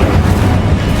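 The Incendio fire spell is cast in the Hogwarts Legacy video game on Xbox Series X, giving a loud, dense, roaring burst of fiery noise that fills the whole second.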